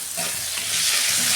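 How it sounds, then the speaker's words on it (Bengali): Ginger and garlic paste frying in a pan for an eggplant curry, a dense continuous sizzle close up with a few stirring scrapes mixed in. "এটা আমি ভালো করে কষাবো"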